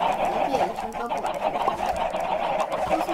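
Chickens cluck in a Minecraft survival game, a steady busy chatter of fowl sounds running through the whole stretch at moderate loudness with no talk over it.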